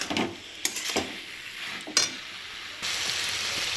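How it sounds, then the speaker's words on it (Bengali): Banana flower cooked down with spices in a pan makes an uneven frying sizzle with scraping stirs and a couple of clanks, and the hiss swells louder near the end, with no one speaking. "ভালো করে আরেকটুখানি মশলাটার সঙ্গে কষিয়ে নেবো মোচাটা।"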